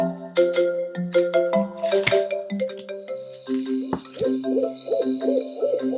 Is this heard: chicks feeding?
no